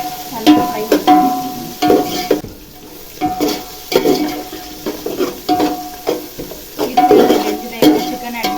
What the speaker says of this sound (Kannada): ಚೆನ್ನಾಗಿ ಫ್ರೈ ಮಾಡ್ತೀನಿ